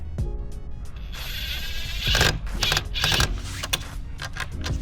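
Screws driven partway into a backyard outdoor outlet cover make repeated ratcheting, clicking turns with brief mechanical whirs, up close over a steady background hum and without speech.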